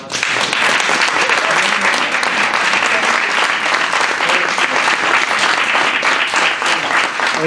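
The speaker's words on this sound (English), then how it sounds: "Please give a warm round of applause." A seminar audience applauds in a steady, dense round of clapping, loud and close, sustained throughout without a break, with no voices standing out.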